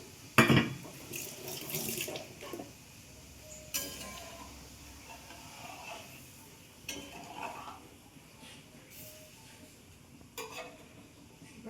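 About one and a half bowls of water pour into a cooking pan for a pabda fish curry, a running splash with light clinks of cookware, fairly quiet and without talk.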